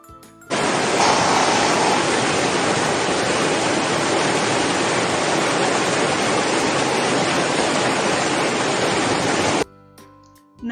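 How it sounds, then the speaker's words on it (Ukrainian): Small spring streams run from melting snow, a dense, steady rush of flowing water that stays loud and even from start to finish. "Приготуйте вушка та послухайте, як течуть струмочки."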